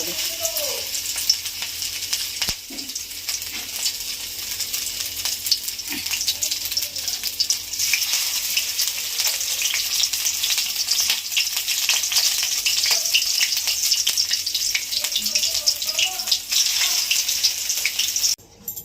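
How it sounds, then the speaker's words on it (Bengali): Prawn fritters dropped one by one into hot oil, a loud continuous crackling sizzle up close that runs steadily with occasional faint clinks. "তেল গরম হয়ে গেছে আমি এবার আস্তে আস্তে বড়াগুলো ভাজবো এক একটা"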